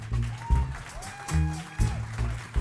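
Applause for the drummer during a jazz performance at Studio 5, with clapping swelling in bursts over sustained instrumental tones and a singing voice.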